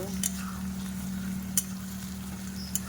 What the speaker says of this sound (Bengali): রসুনটাকে এবার আমি ভালো করে এর সঙ্গে ভেজে নেব